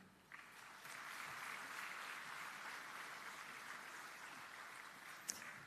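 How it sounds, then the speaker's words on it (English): A large crowd at a graduation ceremony claps in a continuous, even patter that sounds faint and distant and holds for several seconds, with no speech. "Shall we put a big round of applause for the academics we have?"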